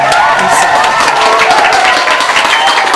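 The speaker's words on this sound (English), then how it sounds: "Let's give another round of applause for Beyonce." Studio audience applause and cheering during a school newscast sketch, a dense, loud crowd roar of clapping mixed with shouts that stays even throughout.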